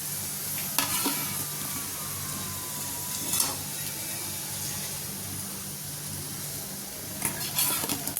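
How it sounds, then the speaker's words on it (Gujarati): Puris for pani puri fry in hot oil with a steady, dense sizzle throughout, punctuated by a few brief clinks and stirring scrapes of a utensil in the pan. "આવી રીતે આપણે બીજી પૂરી પણ તળી લઈશું"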